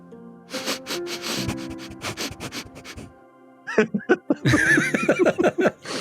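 A voice imitates a pug sniffing, producing rapid snuffly, breathy bursts and snorts close to the microphone, followed by a noisier stretch of snorting and laughter-like sounds.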